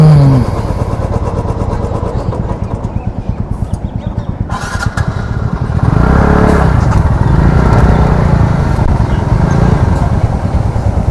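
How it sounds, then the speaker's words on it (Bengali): Several Royal Enfield motorcycles idle and rev in a traffic jam, a steady, close, low engine thump that swells louder and rougher toward the end. "দেখ সবগুলো রয়্যাল এনফিল্ড।"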